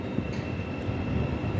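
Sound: Thameslink Class 700 train entering Gasworks Tunnel

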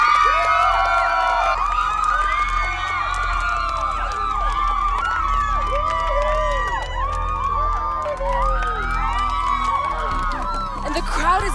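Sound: excited crowd cheering at arrival

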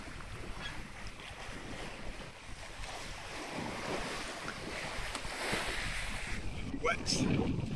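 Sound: Fife sailing yacht gently sailing with headsails out, waves and wind

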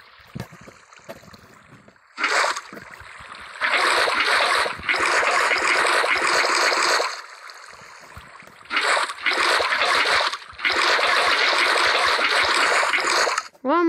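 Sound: water flowing in Minecraft video game

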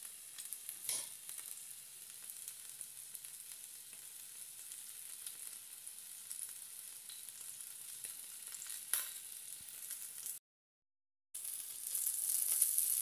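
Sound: beef fillet sizzling on a griddle

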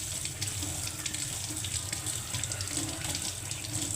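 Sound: washing mutton under running tap water

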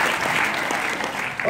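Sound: audience applause

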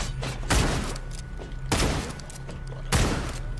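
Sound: shotgun firing in the Redeemer video game

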